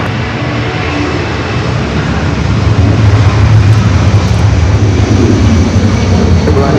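A JetBlue jet airliner on a takeoff roll from an LAX runway makes a loud, steady broadband roar that swells slightly as the engines build.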